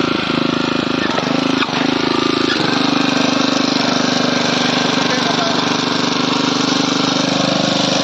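Honda F300 power weeder running in a field, a loud steady mid-pitched engine drone with a slight change in tone early on, while people talk over it.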